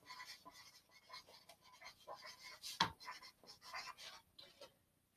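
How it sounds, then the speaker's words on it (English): Soft, quiet scratching strokes of writing on a board in a first and second grade classroom, coming in short irregular bursts, with one sharper tap or squeak in the middle. "So I'm going to write cleaning up."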